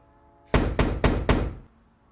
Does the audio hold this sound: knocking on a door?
yes